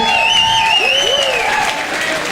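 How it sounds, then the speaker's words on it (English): Applause from a live audience at a show, steady dense clapping under voices and tonal sounds that glide up and down, fading slightly toward the end. "I do like the applause"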